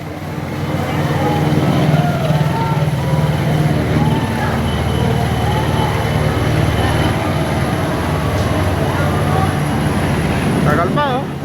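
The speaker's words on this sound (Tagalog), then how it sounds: "May helicopter." A helicopter flies over a market fire, its steady, heavy rumble filling the background while people talk close by.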